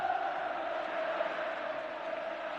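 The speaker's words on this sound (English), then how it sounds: "Applause from Jerry Ryan and for Jerry Ryan." A football stadium crowd at Brighton v Liverpool in 1984 gives off a steady, distant roar of applause and cheering, faint and unbroken throughout.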